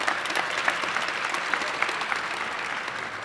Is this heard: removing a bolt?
no